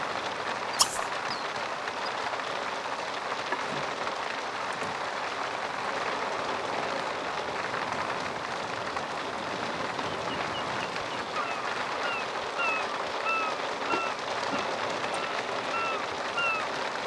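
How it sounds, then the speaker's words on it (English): Steady rain falling in the video game The Sims 3 Island Paradise, a constant even hiss throughout with faint chirps in the background. "It's the next day, still raining"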